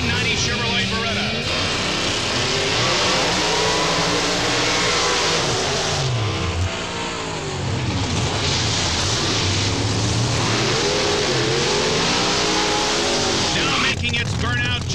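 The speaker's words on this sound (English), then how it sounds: "An unusual sound in pro-modified drag racing, that of a supercharger on alcohol" A supercharged, alcohol-fueled 1990 Chevrolet Beretta pro-modified drag car roars and revs loudly and steadily throughout, its engine pitch climbing and falling, while an announcer talks over it.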